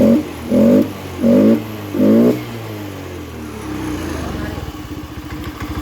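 A Honda Scoopy FI scooter engine blips four times in short, even rising revs, then holds a steadier, slightly louder throttle near the end, with a faint idle underneath between bursts.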